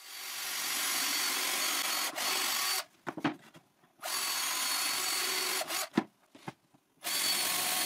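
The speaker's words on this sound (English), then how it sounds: "So I drill another guide hole slightly to the right, just to drill centered in the back strip." A power drill bores a guide hole into a wooden strip for a simple frame, running in steady bursts with short pauses and a few stops and restarts, close and moderately loud.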